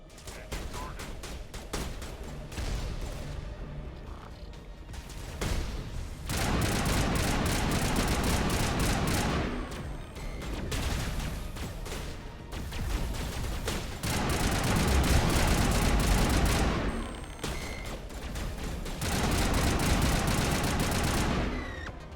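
Rifle gunfire in the video game Mass Effect: Legendary Edition, sustained loud bursts of rapid automatic fire separated by short pauses, close and continuous, with no talking over it.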